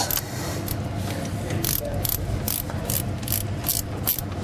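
A ratchet with an 11/16 deep well socket runs a bolt down to its shoulder on a 6.0 Powerstroke diesel injector cup sleeve puller, producing rapid repeated clicking bursts, close and loud over a steady mechanical background.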